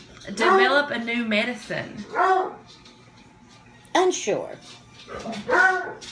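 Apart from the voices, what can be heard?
dogs barking and whimpering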